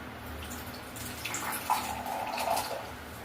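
RO-filtered water poured for a home water test, a soft, steady trickle and splash with a brief louder gurgle partway through, close but fairly quiet.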